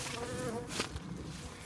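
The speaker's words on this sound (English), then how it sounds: "we can see a couple of bees have obviously decided to jump the queue and get in there." Honey bees buzz steadily around a white hive feed box in spring, a close, continuous insect drone that holds at an even level throughout.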